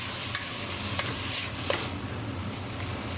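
Bay leaf and cinnamon stick cooking in a pan for Indian lamb keema, a soft steady sizzle with a few light taps of a utensil stirring, close and without speech.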